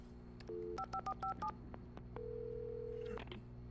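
Telephone dialing in Alan Wake Remastered: a quick run of short keypad tones, then a single sustained tone, fairly quiet against a low background hum.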